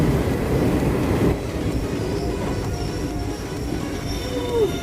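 An express train on the Vasco da Gama–Shalimar 18048 service brakes near a tunnel during railway works, with continuous rolling rumble and a brief rising wheel squeal, close and steady with no talk.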